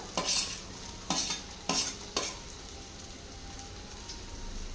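Chopped beans and vegetables fry in sesame oil for fried rice, a gentle steady sizzle punctuated by four brisk stirring scrapes early on, then quieter frying alone at close range.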